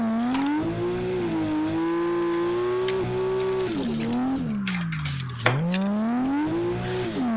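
A Toyota Altezza engine in Assetto Corsa revs hard and steadily during a clutch kick, holding a loud, continuous drone that dips and climbs in pitch, with a brief tyre-squeal flutter near the end.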